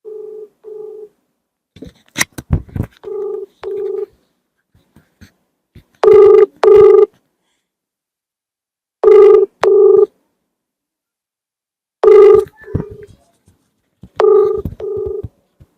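A phone call that goes unanswered: loud, clean ringback tones in evenly spaced double bursts with gaps of silence between them, plus a few short clicks and beeps near the start, with no voice.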